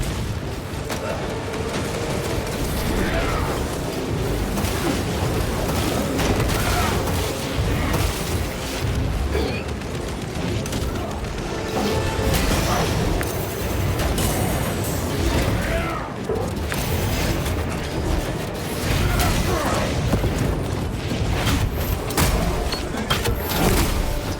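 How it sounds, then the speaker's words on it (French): Frag grenade blast amid battle in Space Marine 2: a dense, continuous wall of booming explosions, gunfire and rumbling combat noise, loud throughout with no clear pauses. "Grenade frag lancée."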